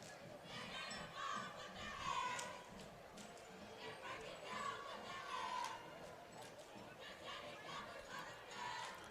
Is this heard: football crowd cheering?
yes